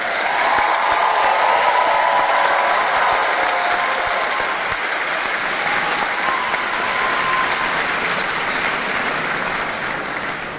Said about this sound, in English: Let's give the class of 2023 a round of applause